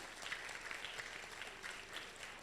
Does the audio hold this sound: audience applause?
yes